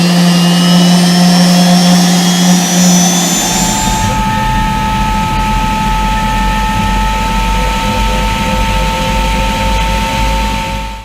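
The MTT Y2K turbine-powered motorcycle's jet engine roars loud and close, a whining turbine with a sustained high hum that shifts in pitch partway through, then settles into a steady, powerful rush until it cuts off.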